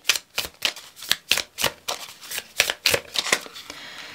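Oracle cards being shuffled by hand, a close run of crisp riffling bursts in an uneven rhythm, each flutter of cards rising and falling, with no talking.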